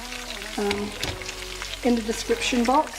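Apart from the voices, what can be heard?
red Spanish onion frying in oil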